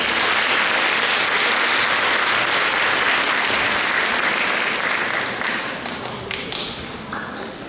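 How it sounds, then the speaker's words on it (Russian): Audience applause after a Baroque Largo by Veracini at a musical-theatre concert, dense and loud clapping throughout that thins out toward the end. "Аплодисменты!"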